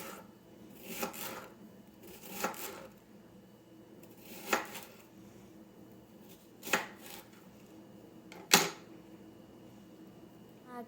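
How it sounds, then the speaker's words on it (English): A small knife slices through persimmon in five distinct cuts spaced a couple of seconds apart, each a crisp close thud against a board, with quiet shuffling between them. "Now she's gonna use a little knife blade or something to cut the persimmon."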